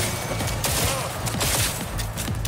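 Rapid bursts of gunfire from a recoiling weapon in the video game Cyberpunk 2077, a dense fusillade of close, loud shots over a steady game soundscape.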